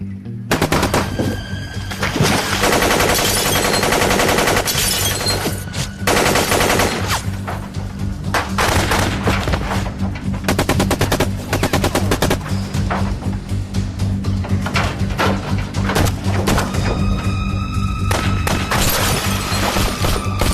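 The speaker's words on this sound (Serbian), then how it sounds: "pri ovakvoj nekoj pucnjavi ili pri dejstvu vatrenog oružja i letenju projektila svuda" Film-scene gunfire roars continuously for twenty seconds, dense machine-gun bursts mixed with heavy shots, booms and shattering impacts, very loud and close with no talk.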